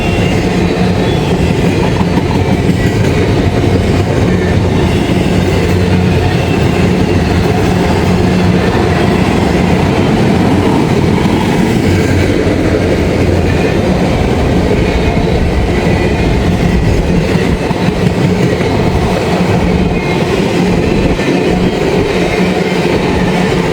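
A long CSX freight train of empty cars rolls past in Vandalia, Ohio, with a loud, continuous rumble and steady clatter of wheels that carry on without a break.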